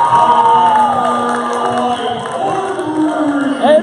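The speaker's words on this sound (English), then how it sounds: "And the crowd erupts." A college men's basketball crowd in a gym cheers after a three-pointer, a loud sustained roar with shouts and whoops rising and falling throughout.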